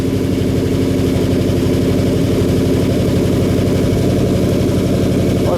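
A Camaro's 383 V8 rumbles at a steady, loping idle up close, loud and uninterrupted, with no voices.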